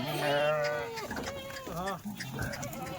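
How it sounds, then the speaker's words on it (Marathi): Several sheep bleat repeatedly inside a vehicle alongside goats, their wavering cries close and loud, overlapping one another with short gaps between calls. "हे बघा मित्रांनो मेंढ्या"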